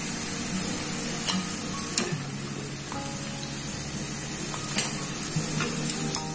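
Banana fries crackle and sizzle steadily in hot oil, with several sharp clinks and scrapes as pieces are lifted out of the pan.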